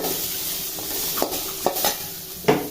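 Garlic cloves and chopped tomatoes sautéing with a little tamarind for thoothuvalai (Solanum trilobatum) chutney, a soft steady sizzle broken by a few sharp scrapes and clinks of a spatula against the pan, close and moderately quiet, with no talking.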